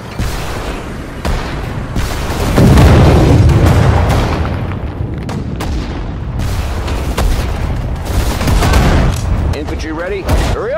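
Artillery and gunfire in the Sudden Strike 4 war strategy game, loud booming blasts and rapid shots layered into a dense rumbling battle din, with game voices speaking over it.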